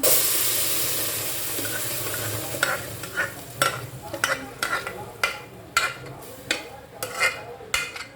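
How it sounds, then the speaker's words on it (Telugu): Mashed dal stirred into a sizzling tempering in a pan: a soft frying hiss under a run of repeated scraping stir strokes, each a short bright scrape, about a dozen in steady rhythm, close up with no talk. "ఈ తాలింపులోకి అయితే ఈ పప్పుని అనేది యాడ్ చేసుకొని ఇక గ్యాస్ ఆఫ్ చేసుకోవడమే అన్నమాట."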